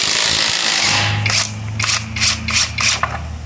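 An Avhrit AH650 cordless lug-nut impact wrench fires in several loud, close bursts of rapid hammering, each a second or less, over a steady mechanical hum.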